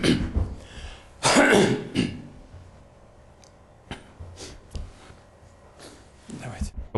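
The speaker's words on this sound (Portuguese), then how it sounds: "Quase comecei a tossir" A man with an irritated throat from talking gives a few harsh coughs and throat-clearing rasps, close and fairly loud, with quieter gaps and brief clicks between.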